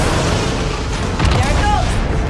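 A turret blows up in Star Wars Outlaws on PS5, a loud, close boom with rumbling low-end debris and a brief tonal sweep near the end, layered over game dialogue.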